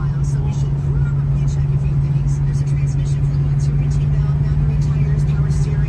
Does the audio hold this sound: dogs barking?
no